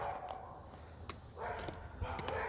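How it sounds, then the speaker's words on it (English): Faint, distant dog barks, a few scattered yips and woofs over background noise. "I don't know what's going on with those dogs"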